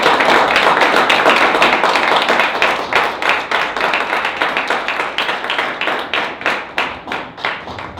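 A lecture audience applauds, dense clapping at first that thins into sparser, distinct hand claps as it dies down, with no talking over it.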